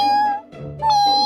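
Cat meowing in the video game Sakura School Simulator, two clear, close, tonal meows separated by a short pause, the second rising and sustained.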